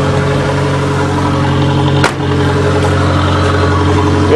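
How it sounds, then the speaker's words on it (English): Turbocharged Aries race wagon engine at high idle through a very low-restriction exhaust, a loud steady droning rumble with strong low harmonics, briefly dipping with a sharp pop midway before settling back into the same even idle. "It's got a very, very low restriction exhaust, so it's running on high idle, and that's what it sounds like"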